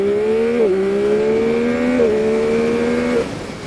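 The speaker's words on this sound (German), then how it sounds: "Vielleicht können wir da mal ein bisschen beschleunigen und schauen," Yamaha XSR900 three-cylinder motorcycle accelerating hard on a straight, a loud close engine note climbing steadily in pitch, dipping briefly at quick gear shifts before rising again, then easing off at the end.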